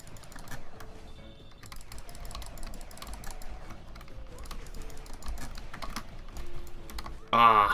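Rapid, continuous clicking and key tapping while playing the roguelite game Revita, busy and close, with game sounds layered beneath and a brief louder effect at the end.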